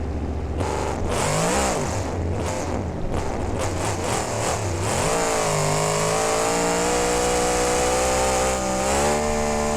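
A monster truck engine in the BeamNG video game revs hard and loud, with choppy bursts in the first seconds, then a sustained high roar that rises and holds to the end, with no voices.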